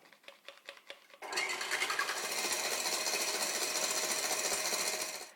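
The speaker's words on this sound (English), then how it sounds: "a little bit of the cake flour in a sifter, and a little bit of sugar, and you sift that together a couple of times" A hand-crank sifter clicks rhythmically at first, then runs into a loud, steady mechanical whir while cake flour and sugar are sifted for angel food cake, stopping abruptly at the end.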